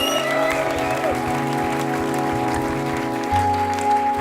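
A concert audience applauds a jazz musician, a sustained crowd clapping close and loud while a low musical tone holds underneath and shifts near the end.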